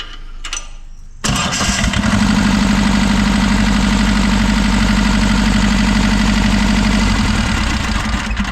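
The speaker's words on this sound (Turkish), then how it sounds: "Şimdi marş bas." A Bolat FM 25 tractor engine cranks and catches after about a second, then settles into a loud, steady, throbbing idle close by that runs unbroken to the end.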